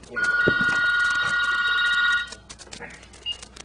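A telephone bell rings steadily and close for about two seconds, then stops. Faint room sounds and quiet voices follow.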